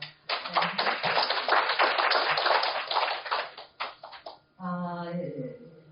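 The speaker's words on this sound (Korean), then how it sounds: "대표님 다시 한번 박수 한번 해주시죠" An audience claps at a book launch for a book about Incheon, a brisk burst of many hands lasting several seconds that thins into scattered claps before a voice takes over.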